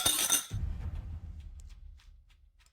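Wine glasses clink together once in a toast, a bright close ring that decays, followed by faint tapping and low rustle.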